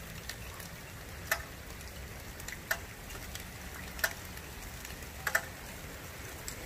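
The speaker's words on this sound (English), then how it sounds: "And the rain is starting to pick back up now" Steady thunderstorm rainfall hisses in the background, with a few sharp ticking drips landing at intervals over the constant wash of rain.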